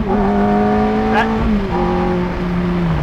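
A Ferrari F430 Spider or Lamborghini Gallardo Spyder supercar engine holds a loud, close, tonal rev, then drops to a slightly lower pitch and carries on steadily.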